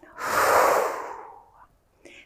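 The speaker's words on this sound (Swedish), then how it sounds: "Och blås ut genom munnen." A long, breathy exhale blown out through the mouth during a gentle mobility exercise session, loud and close, fading out before a short second breath at the end.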